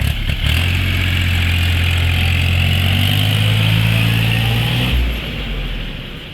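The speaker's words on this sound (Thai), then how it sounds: "ดับเครื่องสตาร์ทใหม่" A Kubota L4018 DT tractor from 2018 idles steadily after a restart, its diesel engine giving a loud, close, even chug that drops and fades slightly near the end, with no talking.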